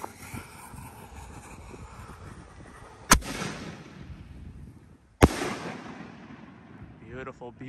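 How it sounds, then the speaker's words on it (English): Snake Tail 5-inch canister firework shells burst in two sharp, loud booms a couple of seconds apart, each followed by a rolling rumble and crackle, with an open outdoor hiss between and a brief whistling tail near the end. "And here goes the last Snake Tail shell times 4."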